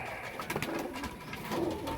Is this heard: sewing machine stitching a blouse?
no